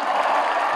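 Loud, dense crowd applause at a Karachi political rally, a continuous roar of many hands clapping together throughout, steady with no gaps.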